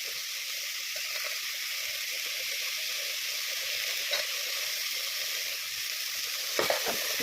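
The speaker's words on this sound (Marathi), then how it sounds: "छान असे फ्राय करून घेणार आहोत." A biryani mixture with peas fries in a pan, giving a steady, soft, continuous sizzle with faint scraping and a couple of louder stirring knocks near the end.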